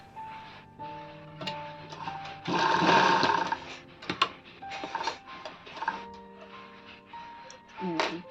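A sewing machine stitches elastic into fabric, running in short close bursts with one longer, louder whirring run in the middle and quieter clicking pauses between stitches.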